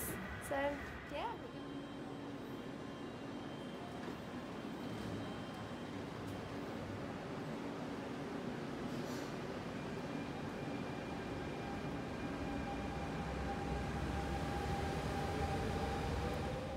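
Inside a passenger train heading to Paris, a steady low rumble and hiss of the carriage fills the space, with faint clicks and a soft tonal whine running throughout at low volume.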